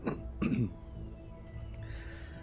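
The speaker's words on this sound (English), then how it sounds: "Clear my throat." A man clears his throat in two quick rough rasps close to the microphone, over a low steady background hum.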